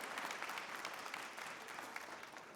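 A welcome round of applause for a new chamber of commerce chair, Marcia, at a Hmong Minnesota business gathering: steady, dense clapping from a sizable audience, fairly distant and sustained throughout.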